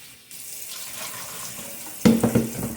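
Tap water runs steadily, then splashes louder as potatoes are rinsed under the stream nearby.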